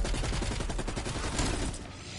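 Rapid automatic gunfire in Cold War Zombies, a sustained loud stream of shots that runs almost unbroken for about two seconds, then thins slightly at the end.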